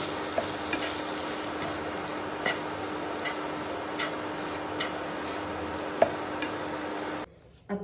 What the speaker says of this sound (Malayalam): എന്നിട്ട് നന്നായിട്ട് ഇളക്കണം.